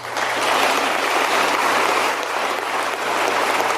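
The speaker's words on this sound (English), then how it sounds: "Come on, that's not a genuine applause." Dense, steady clapping from an audience at a government session, loud and continuous throughout with no voices over it.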